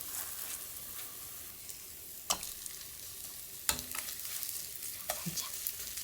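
Vegetables coated in egg batter fry quietly in a lightly oiled pan, a soft sizzle with a few sharp clicks and spatula taps scattered through it.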